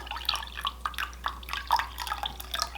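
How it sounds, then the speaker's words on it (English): Lemon juice yarn dye trickling and dripping into a dye bath, a quick run of light splashes and drips at close range with no voices. "I'm going to go ahead and pour it in our dye bath"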